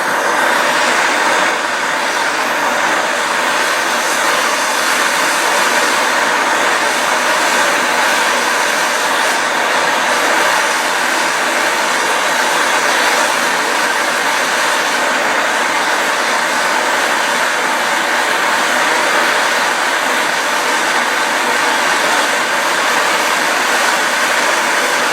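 A MAP gas torch roars steadily and loudly for the whole stretch while heating a seized nut, a constant broadband hiss with no pauses and no talk.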